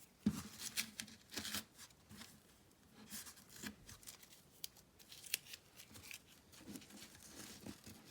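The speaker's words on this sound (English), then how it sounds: "So I'm going to remove all the tape I can find right now from this side" Tape is peeled off the back of an embroidery hoop in quiet, close, crackly tearing pulls and rustles, separated by short pauses, with no one speaking.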